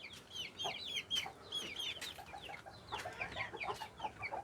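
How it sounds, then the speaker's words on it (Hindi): Hens clucking in a poultry shed where aseel birds are kept, several overlapping calls repeating steadily throughout at moderate volume, near and busy. "ये दो मुर्गियाँ उधर कुड़क हो गई थी"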